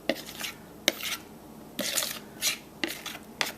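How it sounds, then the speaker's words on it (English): A thick squash casserole mixture is spooned into a small casserole dish, giving several soft scraping and clinking scoops of utensil against dish at an irregular pace, close and fairly quiet. "all of this beautiful mixture is just going to go right into this small casserole"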